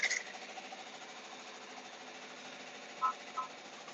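A home embroidery machine stitching a custom children's shirt, a steady, fairly quiet mechanical hum and rapid needle chatter, with a couple of brief higher beeps or clicks near the end; no talking.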